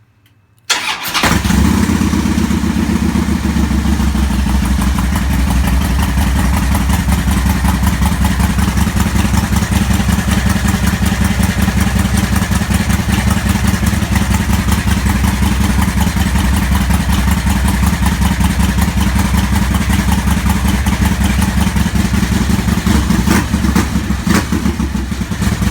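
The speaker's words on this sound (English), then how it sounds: "for now we're just gonna do a cold start." A Harley-Davidson motorcycle fitted with NGK iridium spark plugs starts from cold after a brief quiet moment. It then settles into a steady, loud, loping idle that runs without a break for the rest of the recording, with no talking.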